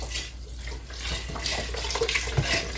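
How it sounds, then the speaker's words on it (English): Beef broth from a 32-ounce carton pours steadily into an Instant Pot for 15-bean soup, a continuous close splashing liquid stream with no talking. "Now I am going to pour in a 32 ounce thing of beef broth."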